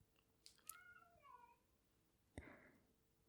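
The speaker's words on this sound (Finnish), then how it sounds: "kun toi toinen kissa, mä en tiedä kuuluuko toi maukaus." A cat meows a few times at close range, with short high calls spread over the first second and a half, then a brief rustle and a sharp knock at the end.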